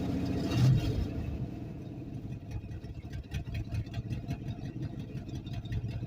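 A vehicle engine idles with a steady low rumble, fairly quiet and close, after a brief louder thump at the start; no talking over it.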